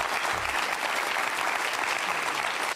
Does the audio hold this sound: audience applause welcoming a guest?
yes